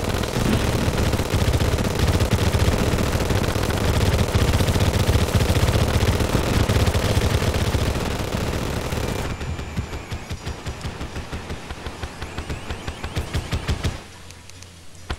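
A gun firing nonstop in the video game Terraria, a rapid, even stream of close shots over a droning background that thins out about two-thirds through, then the shots keep going more sparsely and quieter.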